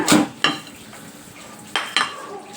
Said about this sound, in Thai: ล้างคกกันเด้อล้างคกก่อน